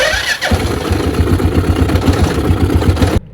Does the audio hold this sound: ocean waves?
no